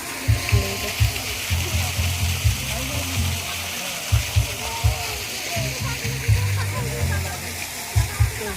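The water fountain at Kadam Tala ghat gives a continuous splashing, spattering rush of water, with people talking nearby over it.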